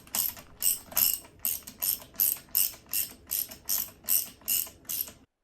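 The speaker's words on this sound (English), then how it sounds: "24mm deep socket attaches the top mount to the strut. To tighten it fully, you can just hold the top of the mount, the rubber part, and tighten the rest down" A ratchet fitted with a 24mm deep socket tightens the strut top mount on a Chevy Spark EV during a coilover install, giving about a dozen quick, evenly spaced clicking bursts, close and clear with no talk.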